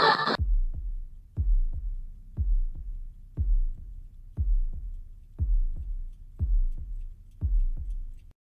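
A specially treated bass drum imitates a human heartbeat on a Pink Floyd recording, with deep, muffled double thumps in a steady slow rhythm, about once per second, heard alone after a brief opening burst.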